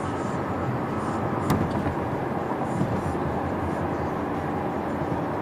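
A 2013 Ford Focus ST pulls away from a dead stop with light clutch, a steady broadband engine and road roar holding at an even level throughout with no clear rise in pitch, heard from inside the car.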